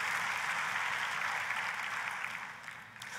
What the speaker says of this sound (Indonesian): Ayo kita kasih tepuk tangannya yang paling meriah buat Tuhan kita.